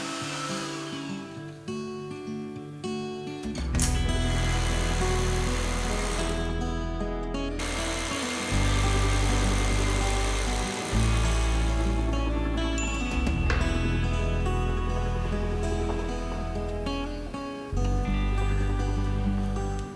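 A drilling machine bores holes for a strongback built for a 50-foot sailboat, a motor whine that starts, stops and restarts in several loud bursts of steady grinding drone.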